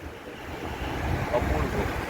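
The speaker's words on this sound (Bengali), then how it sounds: "দারুণ হাওয়া মনে হচ্ছে" Strong wind at Marine Drive, Mumbai, rushes and buffets against the microphone, a steady low roar that grows slightly louder, with faint murmuring voices mixed in.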